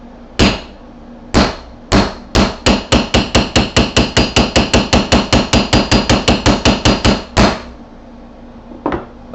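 Hammer strikes metal on a wobbly anvil while a small bulldozer bucket charm is forged: a few spaced blows, then a fast steady run of ringing hits, a pause, and one last faint tap.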